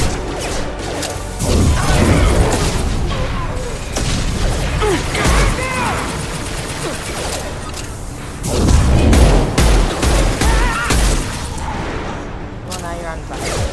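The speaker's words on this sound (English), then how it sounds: "gunfire" Gunfire and crashing impacts from a Mass Effect firefight against an automated combat platform: dense, loud, overlapping bursts, with a heavier volley near the end and game voices speaking throughout.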